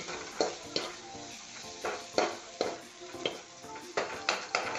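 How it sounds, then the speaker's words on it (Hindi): Paneer sizzles as it fries in a kadai with cooked masala, stirred by a spoon that scrapes the pan in repeated sharp strokes, roughly one or two per second over a quiet steady crackle. "पनीर को हमने कढ़ाई में डाल दिया"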